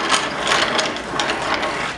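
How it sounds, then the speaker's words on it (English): A nail being sharpened to a point in a sharpener, a close, continuous grinding and rasping with a rapid ratchet-like texture, loud and alone for about two seconds. "You come to a sharpener, and you sharpen your nail, so you can have the tip sharpened"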